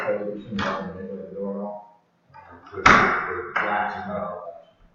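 A house's front door is swung and shut several times, giving sharp knocks and thuds of the latch and frame, mixed with scraping and brief handling noise and some nearby movement.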